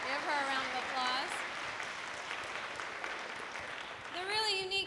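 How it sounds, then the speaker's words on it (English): An audience at a college dance showcase applauds, a soft continuous patter of clapping under a speaker's voice, which is clear at the start and again near the end. "Give her a round of applause."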